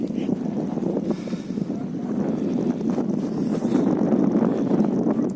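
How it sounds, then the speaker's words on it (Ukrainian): Steady wind rumbles and buffets the microphone outdoors on high ground above a village valley, a constant low roar with gusty swells throughout. "Трошечки вітер, правда, то дорога до села."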